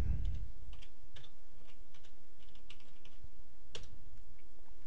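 A command is typed on a computer keyboard during a KVM virtual machine setup, with quiet, irregular key clicks tapping steadily throughout, close to the mic over a low background hum and no talk.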